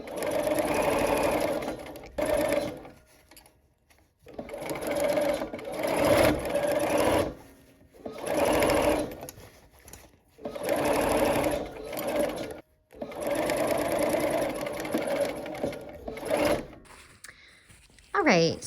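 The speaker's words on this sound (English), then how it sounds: "let's go ahead and sew." Domestic sewing machine stitching the fabric pieces of a Coral Bells quilt block: several bursts of steady, close whirring stitching, each a few seconds long, separated by brief pauses.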